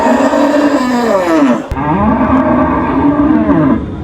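Cattle at a traditional livestock market in Ishwardi, Pabna, low a long drawn-out moo, pause briefly, then moo again, loud and close, with no talk.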